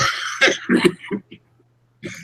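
Several short, harsh coughs in quick succession, close by, followed by a pause and another brief burst.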